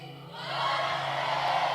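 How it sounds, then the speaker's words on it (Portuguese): A church congregation shouts a victory cry together, a crowd roar that swells within half a second and holds loud and steady. "quem está vivo vai dar um brado de vitória"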